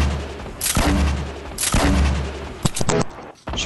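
Gunfire in the Fortnite battle royale video game: several heavy, booming shots spaced about a second apart, followed by a quicker cluster of sharper cracks, loud and close with no talk.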